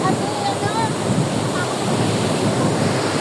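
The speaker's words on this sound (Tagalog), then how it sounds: "Tara, lalakas ng alon." Strong sea waves crash and surge at Tap Mun, Hong Kong, a loud continuous roar of surf mixed with wind buffeting the microphone, with faint voices in the background.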